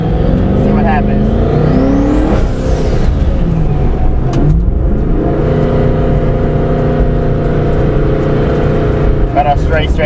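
A twin-turbo 2015 Mustang GT accelerates hard from a 40 mph roll on a straight road, its loud, close engine pitch climbing, dropping at a shift midway, then climbing again.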